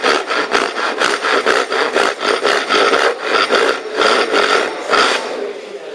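Hand saw cutting a timber side piece along marked lines, loud close rasping strokes in a steady back-and-forth rhythm of about two strokes per second, with no talk.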